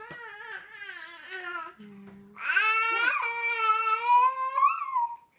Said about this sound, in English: You can hear my baby girl, she's talking a little.